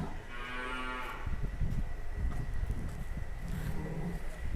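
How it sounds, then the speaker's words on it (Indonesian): A giant cow bellows a single long, loud moo close by at a farm called United Farm, followed by rumbling wind and handling noise. "Kita akan keluarkan sapi monster dari United Farm"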